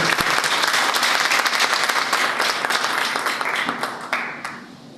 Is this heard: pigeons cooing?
no